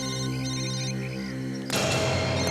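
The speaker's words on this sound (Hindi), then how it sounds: "सर सर, फोन फिर से बज रहा है सर।" A mobile phone rings with a steady electronic tone that sustains for over a second before giving way abruptly to louder noisy clatter; no talk is heard.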